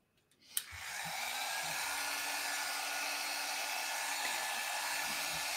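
A click, then a hair dryer starts and runs with a steady, loud whooshing hum while drying alcohol inks, continuing without pause to the end.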